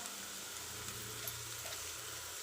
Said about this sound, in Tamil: உப்பு சேர்த்து வதக்கிக்கலாம்